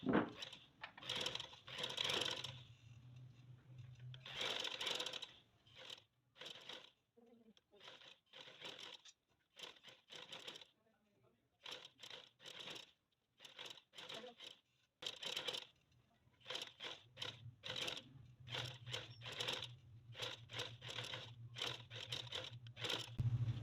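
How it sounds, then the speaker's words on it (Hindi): A sewing machine stitches trouser fabric in quick whirring bursts that start and stop, with short quiet gaps and a longer pause midway, heard close up. "चलते हैं हम मशीन की तरफ और सिलाई लगाते हैं।"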